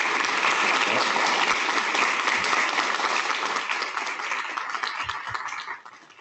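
An audience at a 2021 School of Community Medicine commencement bursts into sustained, dense applause for Dr. Bruce Darden, steady at full strength before tapering off near the end, with no voices over it.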